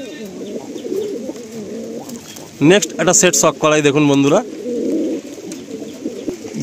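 Pigeons coo on and off in the background of a Madrasi pigeon loft while someone talks loudly and close over them.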